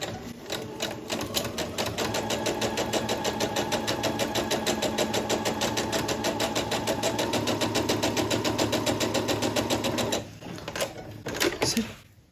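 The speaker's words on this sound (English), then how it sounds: "I'm stitching at stitch length 2, and I'm not worrying about a back stitch." A sewing machine runs steadily for about ten seconds at stitch length 2 with a quarter-inch foot, stitching the seams of a Grecian Square quilt block. The fast, even needle rhythm then stops, followed by a few brief handling clicks.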